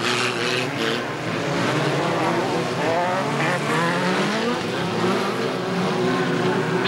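BriSCA Formula 2 stock cars roaring away together from a green-flag start at Boston, a loud, dense wall of racing engines with revving harmonics and tyre noise, sustained throughout with a faint voice underneath.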